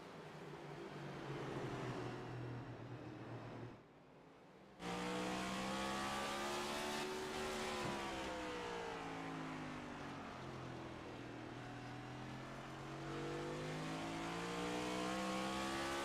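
A race car in the iRacing sim at Martinsville Speedway revs hard and works through its gears, the engine's whine climbing and dropping with each shift, loud and continuous with no voices.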